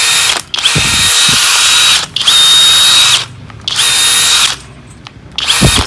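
A FLEX 24V FX1271T cordless drill drilling in loud, sustained bursts of high-pitched whine, repeated three or four times with brief pauses between runs, heard close and with no talking.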